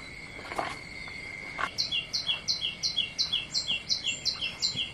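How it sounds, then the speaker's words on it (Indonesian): Birds chirp in a rural riverside village, starting with a few scattered calls and then settling into a steady run of quick, evenly spaced chirps, with a constant insect drone beneath them throughout. "suara burungnya"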